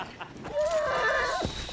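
Horse whinny in a samurai video game, a single rising-then-falling neigh lasting about a second, loud and close, with faint game ambience before and after.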